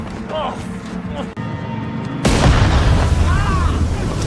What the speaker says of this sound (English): Joe arrives and causes an explosion as a distraction